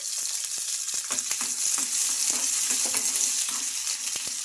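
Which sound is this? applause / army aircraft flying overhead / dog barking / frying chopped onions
frying chopped onions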